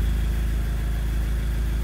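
Audi S3 8P engine idling steadily just after new high-pressure fuel pump internals were fitted, a close, even low rumble with a regular pulsing beat and no voices.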